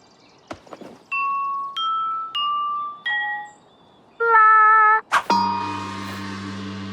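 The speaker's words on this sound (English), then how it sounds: "We've bonged all the gongs." Gongs of different sizes are struck one after another, several bright ringing tones that hold and fade, then a louder cluster and a final crashing strike that rings on at the end.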